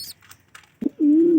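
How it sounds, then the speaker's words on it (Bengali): A pet pigeon gives a short close coo, a quick note followed by a sustained low, wavering call, with faint soft sounds just before. "দেখো আমার নটটা কিন্তু খুব ডাকে, ভয় পায় না ও কাউকে।"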